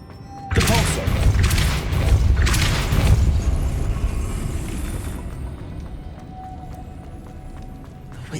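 Depulso force spell cast in Hogwarts Legacy, a sudden loud booming burst that rumbles on for several seconds and slowly fades into low ambient noise, with faint voice-like texture mixed in.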